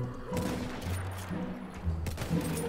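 Gunfire in the first-world-war shooter Battlefield 1: several short, loud bursts of shots crack out over a dense rumble of battlefield noise, with a cluster near the start and two close volleys toward the end.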